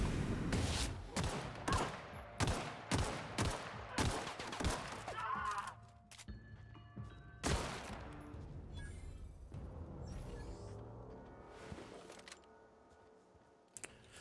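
Assault rifle fire in The Outer Worlds, a rapid string of loud, sharp close-range shots in quick bursts, then a quieter stretch with a few more shots and game sounds trailing off.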